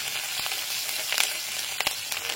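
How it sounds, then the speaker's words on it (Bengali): Chopped green chillies sizzle in hot oil in a pan, giving a steady, close frying hiss throughout with occasional crackles and pops and no voices. "এবার ওই তেলের মধ্যে দিয়ে দিচ্ছি কাঁচা লঙ্কা কুচি।"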